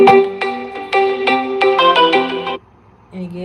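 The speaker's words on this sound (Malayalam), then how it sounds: "എനിക്ക് ഒരു കോൾ വന്നെയാണ്" A phone ringtone signals an incoming call, a bright repeating melodic chime of quick plucked notes that plays loudly, pauses briefly and starts again.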